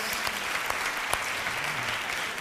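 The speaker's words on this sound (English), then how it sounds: "give yourselves a little round of applause" Audience round of applause filling the room with steady, dense clapping for the whole stretch, loud and continuous with no voices standing out.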